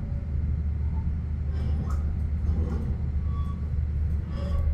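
Fajar Utama Solo executive train pulling into Bekasi station on track 3, a steady low rumble of wheels and carriage noise heard from inside the car, with faint squeals and brief speech in the background.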